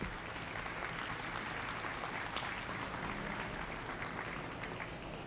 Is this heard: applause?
yes